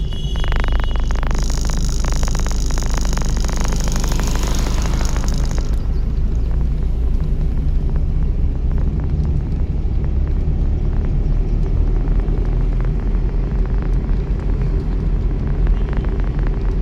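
A car engine rumbles and hums steadily at close range, with a raised, revving tone early on that settles into a continuous drone.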